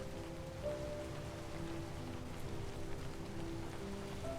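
A heavy downpour hisses steadily and evenly, with raindrops pattering on a surface throughout and a faint tonal hum underneath.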